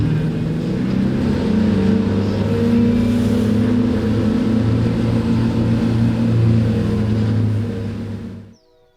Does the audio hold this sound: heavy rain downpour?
no